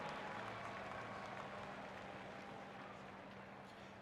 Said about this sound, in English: The Seattle crowd erupts as they go across the finish line